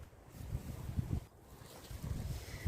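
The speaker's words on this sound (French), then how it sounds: "je me suis mis dans un endroit tranquille, mais il y a quand même du vent" Wind buffeting a microphone outdoors in a quiet spot, low gusty rumbles rising and falling in uneven bursts, soft and close, with no talk.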